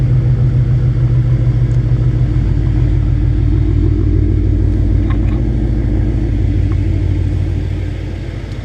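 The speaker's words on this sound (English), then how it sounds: "he's gonna back out now and turn the car around" A twin-turbo BMW V8 car engine rumbles steadily and loudly at close range, backing out and turning around at low speed with a deep, constant drone.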